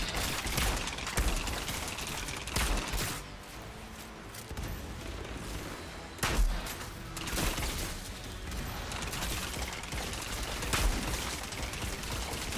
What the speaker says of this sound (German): Ist denn das für ein komisches Waffengeräusch?